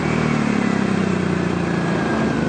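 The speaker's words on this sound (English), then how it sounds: "Let's start the car so I can show you what I am talking about." A car engine idles steadily and close by, a continuous low rumble with even harmonics holding throughout, no voices over it.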